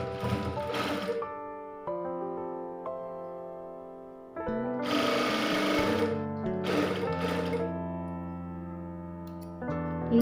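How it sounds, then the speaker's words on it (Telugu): A sewing machine steadily stitches the shoulder seam of a lined blouse, a continuous close mechanical whir that shifts pitch with speed changes and has no talk over it. "ఇలా 1/2 ఇంచు ఉండేలాగా స్టిచ్చింగ్ అయితే వేసుకోవాలి"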